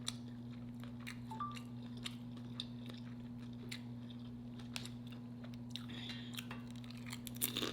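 Someone eating lobster tail tacos with pico de gallo, with soft, close chewing and small crunching bites scattered irregularly over a steady low background hum.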